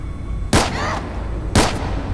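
Two heavy weapon blasts in the video game Fallout 4, each a loud sharp boom with a rumbling, rippling tail, spaced about a second apart over a steady low background.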